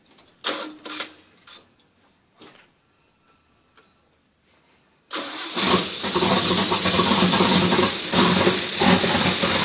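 A Chevrolet 400 engine fitted with Weber 48 carburetors cranks and bursts into a loud, steady running roar after several seconds of near silence broken only by faint clicks and knocks.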